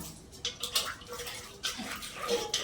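A scrubbed brass tea pot rinsed under running water in a home kitchen, with soft splashes and gurgling in short bursts and a light clink of metal, close and fairly quiet.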